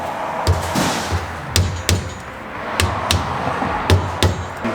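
Sharp metal hammer blows drive a seal and bearing onto a Ram 1500 rear axle, landing close and loud in uneven pairs and singles with short pauses between.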